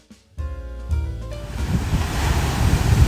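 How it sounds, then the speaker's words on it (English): High surf crashes against coastal rocks, with water cascading off them. A brief tonal sound comes first, then a loud, building roar of breaking waves and spray, with wind noise buffeting the microphone. "this is just remarkably high surf again. We see cascading waterfalls coming off of the rocks"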